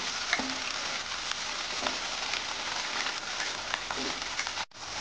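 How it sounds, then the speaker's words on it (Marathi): Fenugreek leaves crackle and hiss in hot oil in a steady sizzle, with a few light clinks of stirring, close and moderately loud. "मेथी आपल्याला छान थोडीशी अशी फ्राय करून घ्यायची आहे."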